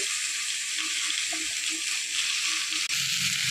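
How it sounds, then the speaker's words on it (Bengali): Cauliflower florets fry in hot oil for a winter khichuri, giving off a bright, constant sizzle close to the pan, with faint stirring knocks and a short break near the end. "এবার একটু লাল লাল করে ফুলকপিটা ভেজে নেব।"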